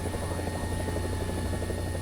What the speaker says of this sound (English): as I'm trying to keep the helicopter level